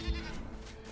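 A goat in the fantasy survival game Enshrouded gives a single brief bleat, faint against in-game ambient sound.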